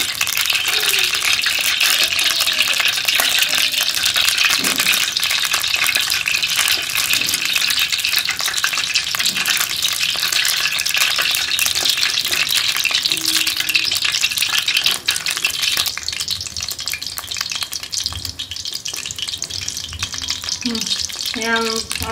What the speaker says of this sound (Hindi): हम उनको फ्राई कर लेंगे।